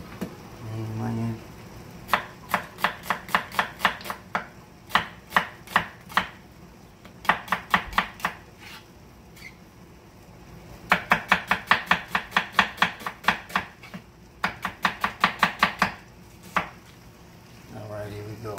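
A knife chops a medium onion on a board in quick rhythmic bursts of close, crisp strikes, separated by short pauses, while cooking ratatouille.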